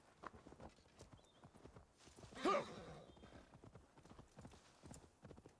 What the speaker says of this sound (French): Reviens là, fidèle étalon.